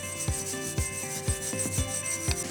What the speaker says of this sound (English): If you've got any rust on your hub or anything like that, feel free to just clean it off.